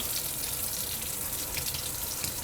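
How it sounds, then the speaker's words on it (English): Water runs steadily from a tap into a sink during handwashing, a constant close hiss and splash with no talking. "Do you want to shut the water off?"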